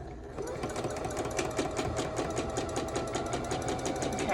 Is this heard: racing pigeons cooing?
no